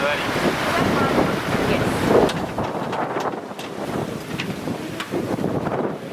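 Strong wind gusting over 20 knots buffets the microphone over the constant wash of waves while sailing across Bass Strait, a loud, unbroken roar with occasional splashes.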